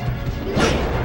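A down smash attack landing in a sci-fi themed fighting video game, a loud crashing smash with a whooshing burst partway through, set over a dense, busy game soundtrack.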